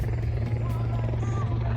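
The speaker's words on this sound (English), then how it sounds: "We've got a helicopter over there." A helicopter sits at a wet race track during a classic rally car event, its engine droning as a steady low rumble with a rhythmic rotor pulse, loud and close.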